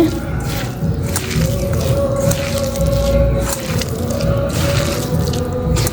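Fish is mashed by hand with plenty of oil, giving wet squishing and squelching sounds close up, with a low background hum and no clear speech.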